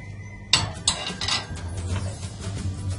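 Long-cut chopped potatoes tumble into a hot pan with a sudden clatter, followed by metal scraping and stirring sounds against a steady low hum.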